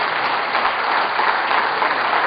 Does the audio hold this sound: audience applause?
yes